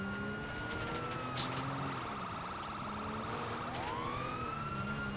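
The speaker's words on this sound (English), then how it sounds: "Sirens still work. Yeah, run the sirens." A police siren in GTA V wails and sweeps up and down at a moderate distance, with a car engine droning underneath; no one speaks.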